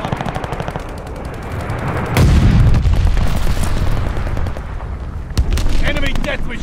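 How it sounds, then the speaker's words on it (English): An enemy glide bomb explodes in a Call of Duty: Vanguard multiplayer Domination match on the Paradise map: a heavy, booming blast hits about two seconds in amid continuous gunfire, with a later sharp crack and voices. "Enemy glide bomb incoming."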